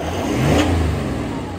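A Toyota LC300 with a 3.5-inch stainless steel DPF-back exhaust revs once, its engine note rising quickly then easing back to a steady idle, loud and close, with no talking.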